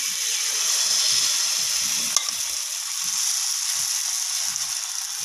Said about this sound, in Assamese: পেনখিনি গৰম হোৱাৰ পিছত মই মিক্সাৰখিনি ঢালি দিম।